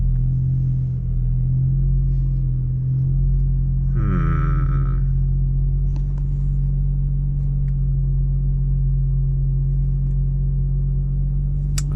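A BMW with a DCT gearbox creeps forward after the brake is released, giving a steady low engine rumble with a brief rising mechanical whine partway through.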